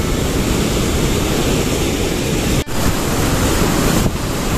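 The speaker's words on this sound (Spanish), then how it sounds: "Ahí pueden ver con la fuerza que baja el agua." Strong rushing water pours down a channel along an energy route trail in Caldas, Colombia, a steady loud broadband roar filling the whole stretch, with a brief dropout near the middle and no voices.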